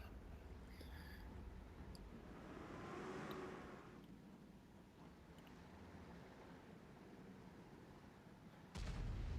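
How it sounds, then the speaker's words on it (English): Faint, distant counter-battery artillery shots landing in a video game battle, dull rumbling impacts under a steady low background hum, with a sharper louder burst near the end. "And more counter battery coming in. Now there's some blind shots coming in now."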